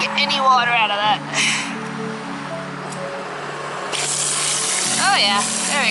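Water gushes steadily from a tap with a hissing splash, while a person talks over it.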